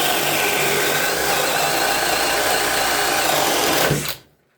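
A Flex cordless drill boring with a spade bit whirs loudly and steadily for about four seconds, then winds down and stops abruptly.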